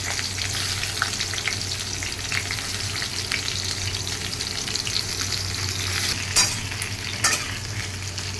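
Peeled pointed gourds, cut in half, fry in a pan over medium flame with a continuous close hissing sizzle. A couple of sharper scrapes or clatters break through near the end.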